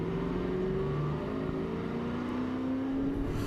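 Clint Bowyer's number 07 NASCAR stock car drives away after a big multi-car crash at the 2006 UAW Ford 500, its engine whirring and droning steadily at a distance, fairly faint, with no talk.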